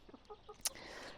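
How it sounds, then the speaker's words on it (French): Hens clucking softly in their coop as they settle for the night, a few short quiet clucks spaced apart, then a brief sharp sound and faint background noise. "Les poules sont en train de se coucher là"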